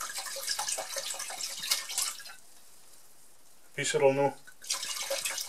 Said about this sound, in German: ich nehme jetzt den Rotwein da, das ist so ein trockener, da habe ich jetzt einmal ungefähr einen halben Liter rein